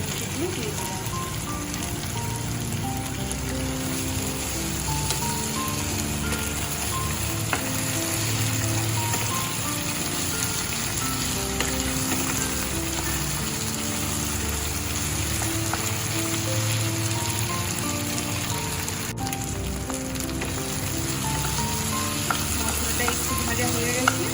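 Tomatoes frying in a pan for a Bengali chicken jhol, a continuous soft sizzle with repeated scraping and clinking of a spatula as they are stirred, fairly quiet and steady throughout.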